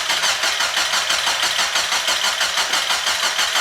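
Mazda Miata engine after an overhaul with water pump, belts and seals replaced, cranking steadily with a fast rhythmic churn, loud and close, without clearly catching, no talk.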